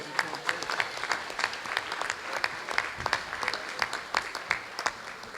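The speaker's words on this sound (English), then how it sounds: "So as we call these folks up, give them a round of applause" An audience at a school board meeting claps steadily for a student wrestler, dense continuous applause from a moderately sized room, fairly close and even throughout.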